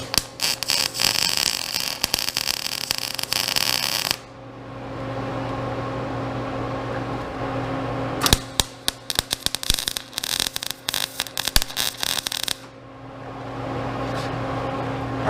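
Tack welding steel parts for tractor log tongs: two separate bursts of harsh, crackling, buzzing arc noise lasting a few seconds each, loud and close, with a steady hum of the welder between them.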